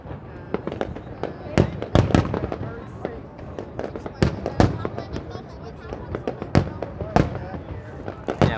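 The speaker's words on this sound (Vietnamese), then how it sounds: "mọi người cùng đứng lại khoảng 15 phút để coi bắn pháo hoa đi nghe" Fireworks for the Lunar New Year Tet 2020 celebration burst in a rapid, irregular series of sharp, loud cracks and booms, seen from near the foot of a bridge, while people in the crowd talk and call out underneath.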